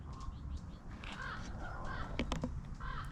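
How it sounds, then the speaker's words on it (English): Crows cawing outdoors in a quiet setting, several separate calls spread across the moment, moderately near and clear against faint background hiss. "the birds are very vocal today"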